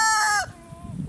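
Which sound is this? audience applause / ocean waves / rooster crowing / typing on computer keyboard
rooster crowing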